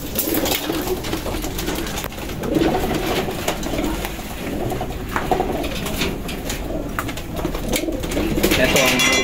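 Pigeons coo repeatedly close by in a busy loft among hens and other birds, with a rustle of wings and movement mixed in throughout.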